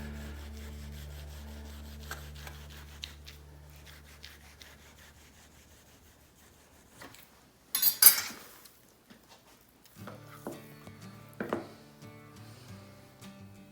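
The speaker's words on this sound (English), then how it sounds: "We can come out and try to trim a little bit of this off before I throw it in the marinade" A knife slicing and trimming fat off beef on a grooved plastic cutting board, close rubbing and sawing strokes with a few sharper scrapes, no speech.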